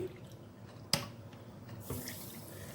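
Water is poured into a pan holding a cup of regular sugar for a coconut cake syrup, giving a soft close trickle with a sharp clink near the start, heard alone.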